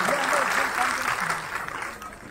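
Audience applause at an Uttar Bharatiya Samaj honouring ceremony in Thane, a steady crowd clapping that carries on with a voice in the background.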